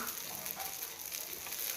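Soft, steady sizzling hisses quietly and continuously as a flatbread made from mung dal husks cooks on a hot griddle.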